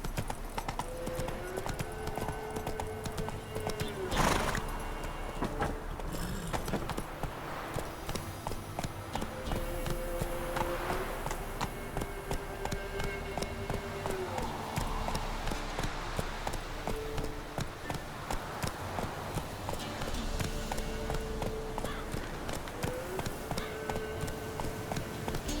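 A horse in The Witcher 3 gallops along at a fast, driving clip-clop, the hoofbeats continuous and prominent over game music and background ambience, with a faint whinny at times.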